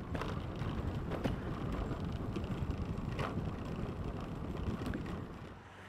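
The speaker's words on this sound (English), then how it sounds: "I'm actually happy that there's wind today" Steady wind buffeting a microphone outdoors on a cycling day near Afton, Virginia, a continuous rumbling roar that holds for about five seconds and then eases slightly at the end.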